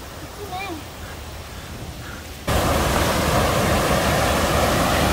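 A waterfall along a rocky stone trail gives a sudden, loud, steady roar of rushing water that swamps the scene midway, after a quieter stretch with faint birdsong.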